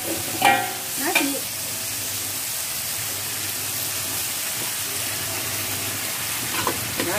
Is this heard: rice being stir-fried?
yes